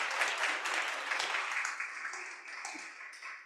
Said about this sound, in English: I just want to have our participants another round of applause for their amazing work today